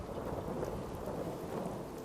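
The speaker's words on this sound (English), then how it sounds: "Hope this rain lets up soon." Steady heavy rain with a low rumble of thunder in Fallout 4, an even wash of downpour with no talking.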